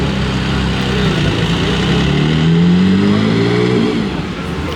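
A Singer DLS sports car engine revs loudly and close by on a Monaco street, the pitch climbing steadily then easing off, with a constant roar and no talking.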